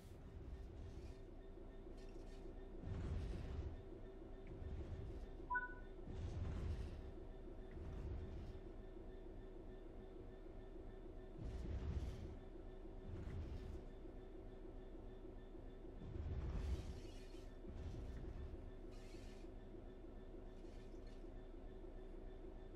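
A simulated train in Train Simulator 3 coasts on level ground, giving a continuous low rumble with recurring soft rhythmic swells of wheel and carriage noise, moderately faint and steady with no voices.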